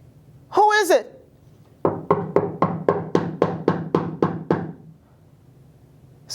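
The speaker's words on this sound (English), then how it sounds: "Somebody's at my door." A loud, rapid series of about ten knocks on a door follows a brief voice, with the evenly spaced raps sounding close and sharp before the room falls quiet.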